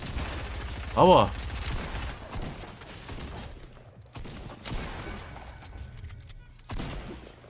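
Video game shooter gunfire comes in several short bursts, a loud cluster of sharp shots early and more scattered cracks later, mixed with game sounds and a man's brief spoken exclamation.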